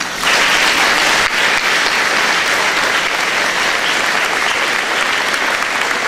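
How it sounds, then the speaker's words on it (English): Guests at a 2006 high school graduation prom give loud, sustained applause for the event's helpers, a thick, constant roar of clapping from a large crowd that holds steady throughout. "So can everyone please give a round of applause for everyone who helped with the graduation prom of 2006."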